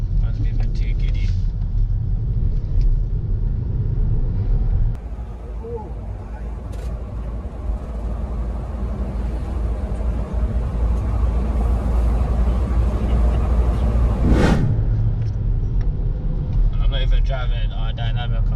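A Volvo V60 cruises in eco mode, giving a steady low road rumble and engine drone from inside the cabin. Another vehicle passes briefly, and a voice talks over the noise.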